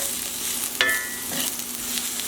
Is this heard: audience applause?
no